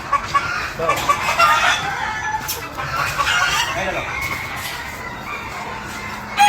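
Several hens on a gamefowl farm cluck and call together, a busy flock sound close by with occasional sharper squawks and no talking.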